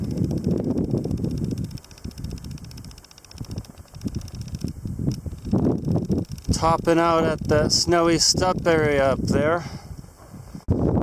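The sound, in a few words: wind blowing over microphone on a mountain hike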